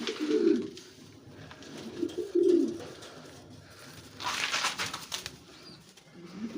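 Soft, low pigeon coos repeat close by, with a brief rustle of fluttering wings and faint movement in between.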